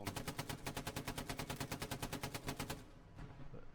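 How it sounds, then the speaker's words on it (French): A rapid, evenly spaced burst of automatic gunfire in a tank war video game rattles for nearly three seconds, then cuts off, leaving a brief quieter tail. "C'est eux qui on les entend tirer en fait."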